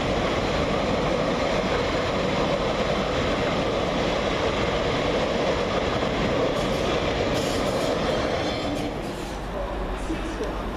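A Class 345 train runs fast through Reading station, a steady loud broadband roar of wheels and motion filling the whole stretch and easing slightly near the end.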